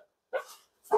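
Dogs indoors giving two short sharp barks about half a second apart, close and loud, with silence around them.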